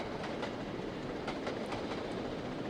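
The Flying Scotsman steam train accelerates in the Trainz video game with a quiet, steady rumble of rolling wheels and a faint, rhythmic clickety-clack over the rails.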